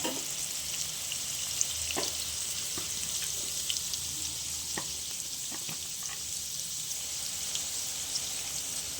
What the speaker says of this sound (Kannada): ಸುಮ್ಮನೆ ಒಂದು ಸ್ವಲ್ಪ ಫ್ರೈ ಮಾಡ್ಕೊಳ್ಳಿ ಸಾಕು